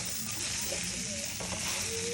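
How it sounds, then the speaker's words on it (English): Pork meat sizzles in a hot pan, a steady dense crackle and hiss that stays close and loud throughout the short stretch, with no talk over it. "we're gonna let our meat start frying up, getting grilled up"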